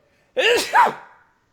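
A single close, loud sneeze in two bursts, a sharp intake and then the explosive release, heard alone during a podcast recording with no talk over it.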